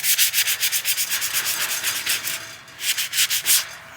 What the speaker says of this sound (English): we're going to go ahead and sand that up a little bit.